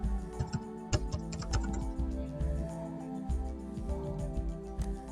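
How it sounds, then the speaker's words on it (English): Typing on a computer keyboard while entering a username during a Windows XP setup, a steady run of close, crisp key clicks with brief pauses and a few heavier keystrokes. "we're just going to type in our username."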